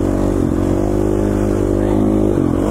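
A two-stroke dirt bike engine revs hard nearby, its buzzing drone held high with slight dips and surges in pitch, loud and steady with no talking over it.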